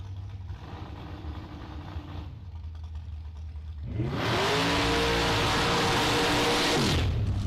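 A bye-run dragster on a drag strip idles with a low rumble, then at about four seconds erupts into a loud, sustained full-throttle roar that holds steady and cuts off near the end.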